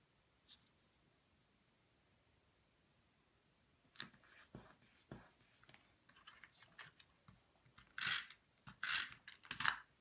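A Stampin' Up! snail adhesive tape runner at a card-making desk: after a quiet start come quick, crisp clicks and ratcheting rasps, bunched into short bursts that grow louder near the end. No speech.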